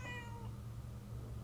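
A cat in the video game Murdered: Soul Suspect, set in a church, gives one short, clear meow over a low steady ambient hum, with no talking.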